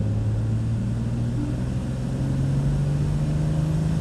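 A 2023 BMW M2 at full throttle in fourth gear from about 30 miles an hour drones steadily from inside the cabin, its engine note slowly climbing in pitch over four seconds with no talk.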